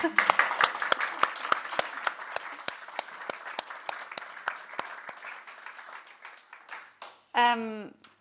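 Audience at a panel discussion applauding the speakers: crisp, sharp claps start full and gradually thin out and fade over several seconds, then a voice begins speaking near the end.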